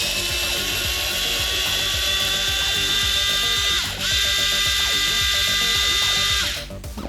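A long screw being driven into a part of an Arrma Typhon/Granite Grom RC car gives a steady, close whirring and ratcheting drive with a fast pulsing rhythm. It pauses briefly midway, resumes, then tapers off at the end.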